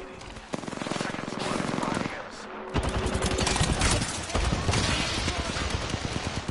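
Rapid bursts of gunfire crackle almost nonstop in an Apex Legends firefight, loud and dense, with a voice talking over the shooting.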